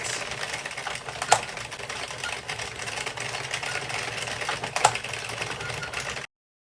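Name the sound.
Addi King circular knitting machine cranking out rows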